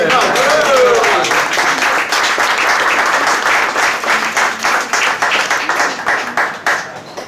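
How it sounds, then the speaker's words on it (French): A crowd claps and applauds continuously, starting in a dense wash that thins into more distinct individual claps toward the end. "sous vos applaudissements"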